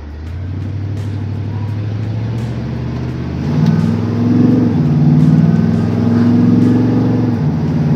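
A car engine newly fitted with Sniper EFI fuel injection runs steadily at low revs while driving in learn mode, then rises in pitch and load around midway as the car accelerates easily, a continuous close hum with no talk.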